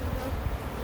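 Honeybees at an open hive during an inspection: a dense, steady buzzing hum up close, brief and continuous with no talking.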